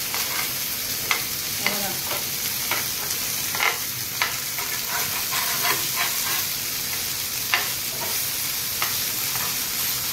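Bombay duck (bombil) fish frying in oil with a loud, continuous sizzling hiss, punctuated by light scattered clicks of stirring and turning, close up.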